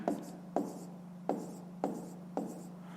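Pen scratching on paper as numbers are written by hand for a fifth-grade decimal maths exercise, in five short, quiet strokes about half a second apart, over a low steady hum.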